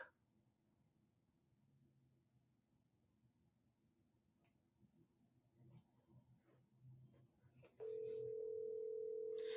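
A telephone call tone sounds as a steady, loud single-pitch tone in the last couple of seconds, following quiet room noise with faint clicks and distant voices.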